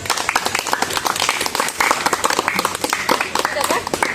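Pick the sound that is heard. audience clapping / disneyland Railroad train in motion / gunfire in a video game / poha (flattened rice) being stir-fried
audience clapping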